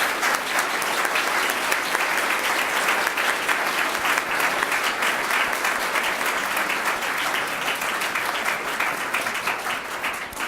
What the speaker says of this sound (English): And now I'm going to lift my ban on applause, because I think we all want to thank the candidates very much.